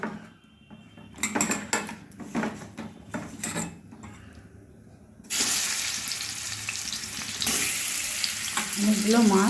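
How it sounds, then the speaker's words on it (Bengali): Snakehead fish sizzling in hot oil in a wok heated on a gas stove, with a steady loud crackling hiss that swells sharply partway through as the fish hits the oil, punctuated by a few scraping clinks. "এবার আমি মাছগুলো ভেজে নেব।"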